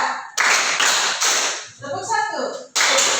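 A class of students claps together in a counted rhythm, a few loud, near bursts of group clapping separated by short pauses, with a teacher's voice talking in between.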